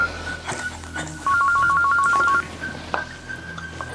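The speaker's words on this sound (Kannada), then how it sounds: "ಖುಷಿ ಫೋನ್." A phone ringtone chimes in a repeating electronic pattern for about a second, over a quiet room background.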